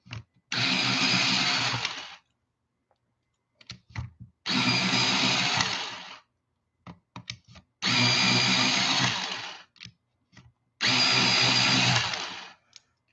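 Electric pencil sharpener grinding a colored pencil in four loud, steady bursts of about one and a half seconds each, with short clicks and quiet gaps between them.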